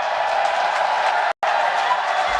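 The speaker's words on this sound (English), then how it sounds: "Yeah, that's the crowd sound." Steady wash of arena crowd noise at an esports major, a dense continuous roar with no clear peaks, cut by one brief dropout to silence midway.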